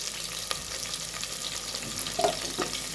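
Chopped onions fry in a pan for an egg biryani, giving a steady soft sizzle with a few sharp crackles and stirring scrapes near the end, no talking.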